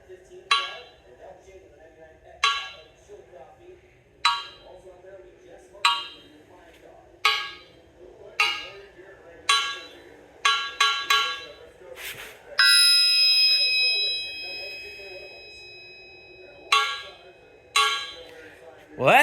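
A cracked used Crowder crankshaft from a Top Fuel nitro motor is struck again and again with sharp, evenly spaced metallic hits. A longer sustained tone rings out in the middle, and a voice is heard faintly in the background.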